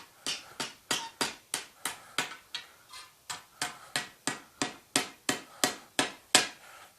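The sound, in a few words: hammering hot steel tractor part on anvil horn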